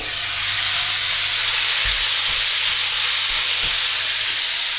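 Loud, steady sizzling hiss of beef and noodles frying in a hot pan, with a few soft knocks and scrapes underneath.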